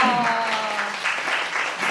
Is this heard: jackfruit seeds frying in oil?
no